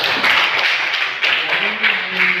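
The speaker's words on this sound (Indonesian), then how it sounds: "berikan aplaus untuk saya" A classroom group applauds in brief, steady clapping for a couple of seconds, with a voice briefly heard over it.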